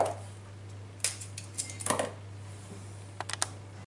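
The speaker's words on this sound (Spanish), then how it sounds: "le voy a dar un cortecito nada más a cada ajo y se lo voy poniendo" Garlic cloves from a whole head being nicked with a knife and set onto chicken: a few sharp clicks and taps on a board, close and quiet, scattered in short bursts over a steady low hum.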